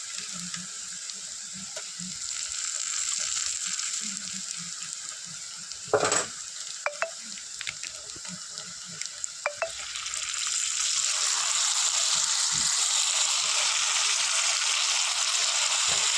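Ginger-garlic paste frying with browned onions in a pan for a chicken dish, a close sizzle with a few scrapes and clinks of stirring midway, the hiss swelling louder in the latter half, with no talking.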